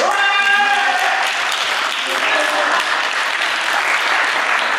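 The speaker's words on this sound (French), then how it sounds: "le premier couple évidemment, vous pouvez l'applaudir." A studio audience on a French makeover show applauds the first couple. The dense, continuous clapping fills the room while a voice speaks faintly over the start.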